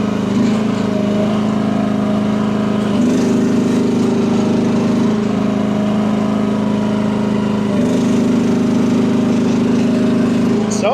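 Small, inexpensive mini excavator's engine drones steadily and loudly as the machine drives, with a constant mid-pitched hum that shifts slightly in pitch a few times as it moves.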